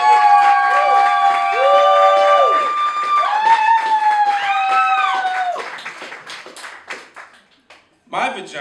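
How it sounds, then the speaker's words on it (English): A comedy show audience claps and cheers loudly while overlapping voices shout and whoop, the noise gradually fading before a brief burst returns at the end. "Everyone please clap it up for Adam Pasi."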